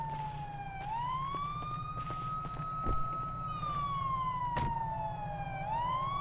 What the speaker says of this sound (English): so I can turn the siren off